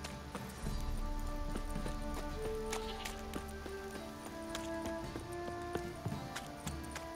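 Horse hooves clip-clopping in The Witcher 3 game, a steady run of hoofbeats under game music and ambient tones, moderately loud throughout.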